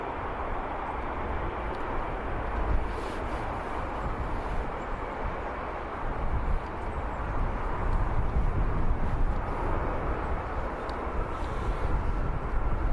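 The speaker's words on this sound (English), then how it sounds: "Go back to the EasyJet departing now" EasyJet plane departing Birmingham Airport for Amsterdam, a steady broad engine roar at a distance that swells slightly louder in the second half, with no talk.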